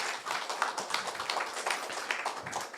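Audience at a forum applauding a speaker, a short burst of dense clapping with uneven loudness, moderately close, with no speech.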